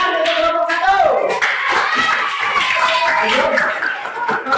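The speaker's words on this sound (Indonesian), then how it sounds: "Tepuk tangan untuk kelompok 1." A classroom group claps for the first team in a teacher coaching session, producing a short burst of close hand clapping mixed with voices and light laughter.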